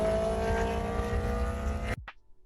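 A sports car engine revs hard with a loud, sustained high-pitched wail that cuts off abruptly, leaving a brief fading rumble.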